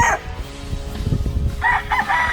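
A fighting rooster crows on a farm, a loud close cock-a-doodle-doo at the start, followed by clucking and rustling, then more crowing bursts near the end.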